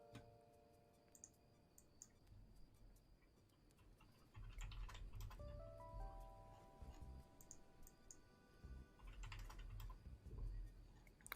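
Irregular bursts of clicky typing on a computer keyboard, fairly quiet and close, with steady room hum underneath and no talking.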